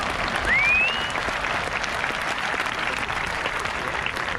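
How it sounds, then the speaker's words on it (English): Audience applause for volunteers at a National History Day event, steady and sustained clapping from a large crowd filling the whole stretch, with a brief whistle near the start. "Let's please give all the volunteers a round of applause."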